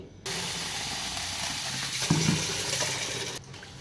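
Small cowpeas being washed in water in a home kitchen: a running rush of water from a tap with a splash and brief clatter midway, close and steady, stopping near the end.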